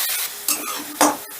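A short burst of stirring in a pan as a paste of ground ginger and green chilli fries, with soft sizzling and a couple of sharp utensil scrapes against the metal.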